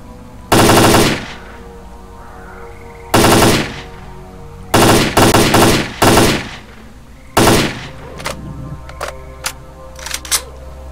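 Automatic gunfire in STALKER: Call of Pripyat, several loud close bursts of rapid shots separated by short pauses, trailing off into a few scattered single shots.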